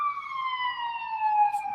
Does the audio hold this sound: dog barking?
no